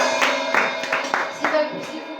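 Several bursts of church congregation clapping, loud and close, with brief pauses between rounds and a murmur of voices underneath.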